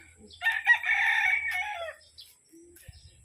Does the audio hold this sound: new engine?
no